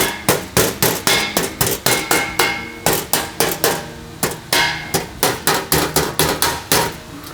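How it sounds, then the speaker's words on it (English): Hammers strike a metal ceiling tile resting on a metal table, a rapid series of loud, sharp, ringing blows in a steady rhythm with two brief pauses, heard up close with no talk. "using this metal table, we have an assortment of different hammers and tools"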